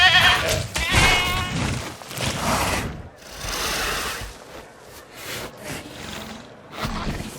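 A goat bleats in Jurassic World Evolution 2, giving a few loud, wavering, nasal cries close up against light in-game ambience.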